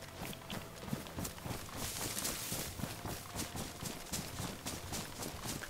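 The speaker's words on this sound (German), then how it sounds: "Links hinten hören wir schon Elch." A moose running in the survival video game DayZ, a steady rhythm of hoof thuds pounding across open ground, moderately close and continuous, with no talk.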